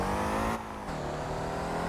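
A loud, steady engine drone from the Mammoth vehicle in the driving game Motor Town holds an even pitch, dips briefly, then settles at a slightly lower tone, with no voices.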